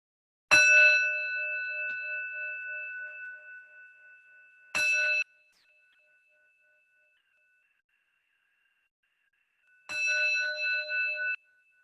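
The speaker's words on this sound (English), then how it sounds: "ending the practice when you can no longer hear the sound of the bell" A meditation bell rings clearly three times, with long pauses between strikes. The first strike rings out and slowly fades, the second cuts off quickly, and the third holds steady before ending, all in near silence.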